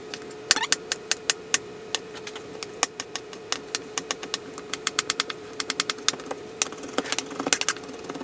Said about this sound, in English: We're going to cut some tomatoes.